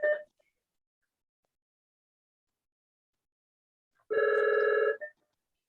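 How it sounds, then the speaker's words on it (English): A telephone rings during a committee meeting: a short burst of electronic trilling at the start, then silence, then a longer trill about a second long, moderately loud with nobody speaking. "I've got a phone that doesn't stop here."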